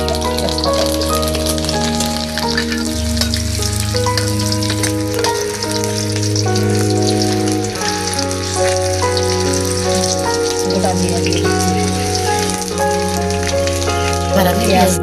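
Whole cloves, cardamom pods and green chilies fry in hot oil for a vegetable biryani, a steady close sizzle running throughout with strong tonal music layered over it.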